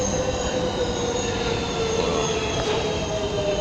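Subway train rolling past with loud, sustained wheel squeal and steady rail rumble throughout, close and continuous, no talking.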